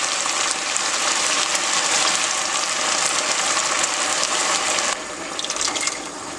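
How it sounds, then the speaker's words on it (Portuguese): Hot vegetable broth pours into asparagus risotto in the pan with a steady, close, hissing gush that runs for about five seconds and then eases into quieter sizzling. "eu começo a acrescentar o caldo de legumes"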